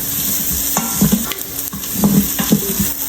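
Onions and garlic frying in oil for kare-kare, a steady sizzle broken by several scraping, clinking strokes of a spoon stirring the pan, close and fairly loud.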